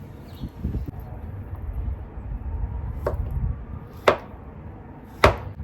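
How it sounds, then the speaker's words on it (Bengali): A knife cutting papaya on a board, a few soft slicing sounds early, then three sharp separate chops near the end, close and clear over a low steady background hum. "কাটা হয়ে গেল পেঁপে"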